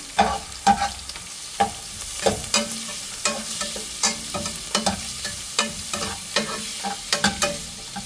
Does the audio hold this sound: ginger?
yes